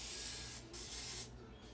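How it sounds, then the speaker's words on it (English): Cooking spray hissing from an aerosol can onto a muffin pan in a home kitchen, two short close bursts with a brief pause between, quiet and without talk. "But I am also gonna give it a good coating of, this is just cooking spray."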